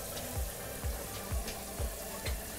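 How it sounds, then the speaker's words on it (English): Regular tap water running into a container, a soft continuous trickle with faint periodic gurgles and splashes at moderate distance. "we can fill it with just regular tap water"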